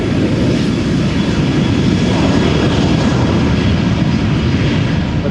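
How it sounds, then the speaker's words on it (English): Boeing 737-700 taking off at Amsterdam Schiphol Airport, a loud sustained jet engine roar heard from nearby, steady and unbroken throughout. "In the meantime, there is a 737 that is taking off from in front of us."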